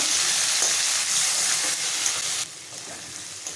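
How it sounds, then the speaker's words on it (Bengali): Onion fries in a pan with ginger-garlic paste and chopped tomato for chicken keema: a dense, even sizzle close by that drops noticeably quieter partway through, with no talking. "এগুলো ভেজে নেব"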